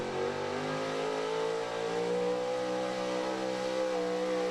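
A pulling truck at an outdoor truck and tractor pull revs hard with a sustained rising engine roar, heard steadily from a distance as it spins out.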